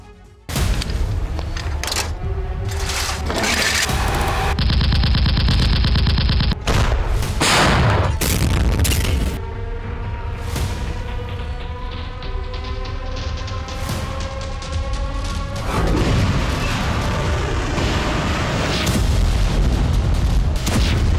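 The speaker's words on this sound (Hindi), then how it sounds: "पिछले कुछ घंटे में रूस ने खार्किव में स्कंदर मिसाइलों से हमले किए हैं" Loud, continuous barrage of explosions and gunfire from Russian Iskander missile attacks on Kharkiv, with repeated heavy booms and crackling bursts throughout, no voices.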